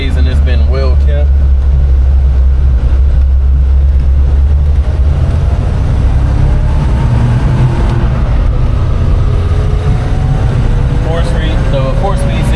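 The V6 engine of a 1987 Toyota Land Cruiser with a 4-speed runs steadily from inside the cab, a loud continuous low rumble and road noise. A person talks over it throughout.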